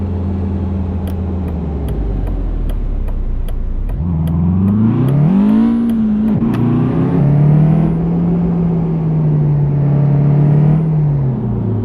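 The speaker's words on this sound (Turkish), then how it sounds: "Araba güzel kalkıyor. Vallahi seri bir araba." Car engine in Euro Truck Simulator 2 with a Logitech G29 wheel, idling low and then revving up through rising pitch sweeps before settling into a steady drone, loud and close with no talk.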